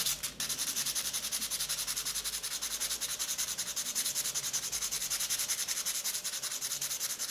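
Sandpaper rubs back and forth on a brass belt buckle in a fast, even rhythm of close, hissing strokes that continue steadily throughout.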